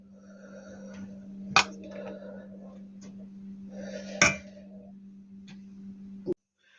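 A spoon clinks against dishes while cooking a lavash and mushroom pie: two sharp metallic clinks a few seconds apart, plus a final knock, over a steady kitchen hum with quiet handling noise.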